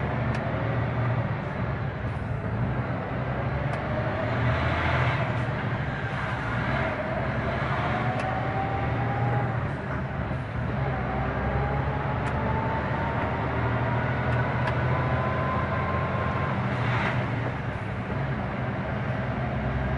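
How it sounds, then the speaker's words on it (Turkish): Heavy road traffic surrounds a truck on narrow, congested Istanbul streets: a continuous low engine rumble with passing vehicles, tonal whines and a few distant horn-like tones across the scene. "Şu trafiğe bakın arkadaşlar."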